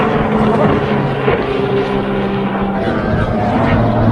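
Racing powerboats at a boat race in Arendal, Norway roar past with a loud continuous engine drone and rushing noise, heard close and dense throughout.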